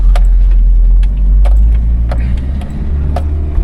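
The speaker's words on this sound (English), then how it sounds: "First gear, you can just let it crawl down" A car crawls slowly downhill in first gear on a rough road in Armenia. A loud, steady low engine drone runs throughout, with occasional light rattles and knocks over it.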